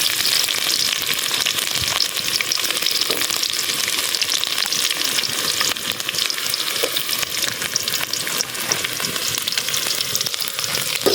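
Onions fried in oil with mustard seeds, a dense, even sizzle that runs loud and unbroken for over ten seconds with faint stirring scrapes mixed in, recorded outdoors.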